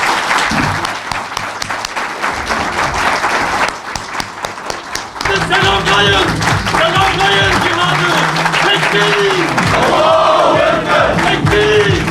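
An audience at a gathering about Sumud flotilla activists bursts into loud applause and cheering, then a crowd takes up rhythmic chanting of slogans over continued clapping, all close and intense.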